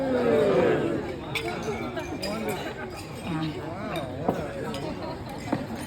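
Wedding guests clink glasses during a toast, a scattering of bright chimes and taps rising over lively crowd chatter and overlapping voices.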